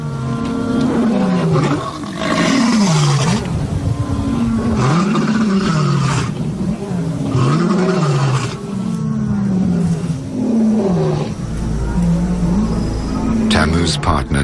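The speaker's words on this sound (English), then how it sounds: "The roars of lions disrupt the intimacy of the pair." Lions roar in the evening, a series of deep, rhythmic grunting roars repeating steadily and loudly, with a low rumbling undertone throughout.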